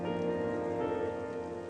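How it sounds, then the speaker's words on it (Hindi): Heavy rain falls in a steady dense wash of noise, constant and fairly loud throughout the short stretch, with no voices and an underlying tonal hum. "कितनी तेज बारिश हो रही है।"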